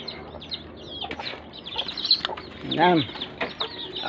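Backyard chickens kept by a household cluck and squawk nearby, with a louder rising call near the end, over a busy background of rustling and a brief spoken word.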